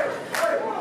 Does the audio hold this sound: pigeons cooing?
no